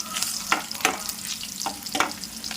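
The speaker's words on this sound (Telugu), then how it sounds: "ఒక 2 ఎండుమిరపకాయలు, కొద్దిగా జీలకర్ర, ఆవాలు వేసుకోవద్దు, అది కొద్దిగా దూరగా వేగనియాలి." Dried red chilies and cumin seeds fry in hot oil, giving a steady close sizzle broken by sharp crackles and pops, with no voices.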